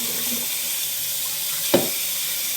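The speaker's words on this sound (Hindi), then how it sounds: "और उस टाइम तक पर पानी हम ठंडा डालेंगे जब तक ये पास्ता सारा ठंडा नहीं हो जाता।" Cold tap water runs steadily over boiled spaghetti in a home kitchen sink, a continuous close hiss with a brief knock partway through.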